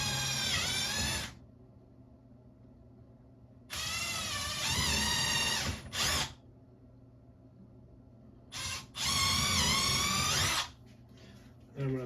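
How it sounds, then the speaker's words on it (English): A Milwaukee power drill with a 1/8-inch bit pre-drilling holes for a door reinforcement lock install, three close whirring bursts with rising and falling pitch separated by quiet pauses, plus a couple of short blips. "Now I'm going to pre-drill with my Milwaukee in 1/8 drill bit."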